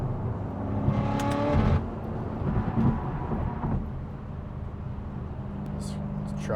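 A BMW M5 engine, warmed up, revs through the low gears with a rising, fluctuating roar that dips and surges, heard from inside the car while someone talks over it.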